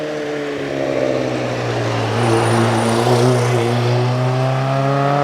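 A vintage Morgan-chassis sports car with a Riley engine at the Prescott hill climb: a loud, strained engine note that holds steady and then climbs in pitch as it accelerates up the hill, heard fairly close.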